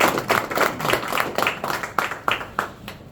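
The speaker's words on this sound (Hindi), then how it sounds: "एक बार और तालियां बजा दीजिए।" Audience members clap at a loyalty card launch ceremony, with distinct, fairly loud hand claps in uneven rhythm, some sharp individual claps standing out from the crowd.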